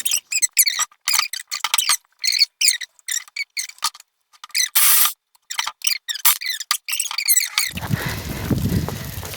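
Rapid bursts of high squeaking and scraping from cutting material while building a rabbitry, in short choppy strokes with brief gaps, then a low rumbling rustle at the end.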